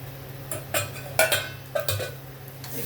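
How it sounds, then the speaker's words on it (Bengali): Onion and garlic are stirred in a pan for winter tomato soup, giving light scraping and clinking of a utensil against metal in several irregular taps over a low hiss, faint and close, with no talking. "একটু নেড়ে নিচ্ছি।"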